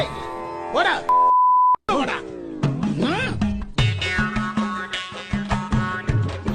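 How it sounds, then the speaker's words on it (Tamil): A single sustained electronic censor beep, about half a second long, cuts in between animated voices and music. "அதுக்கு பீப் சவுண்ட் போட்டு விடுவோம்"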